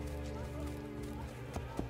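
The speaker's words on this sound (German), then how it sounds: "nehmen wir mal hier das Pferd" A horse gallops in the video game Assassin's Creed Brotherhood, a faint rhythmic clip-clop of hooves beneath a layer of game music and someone talking.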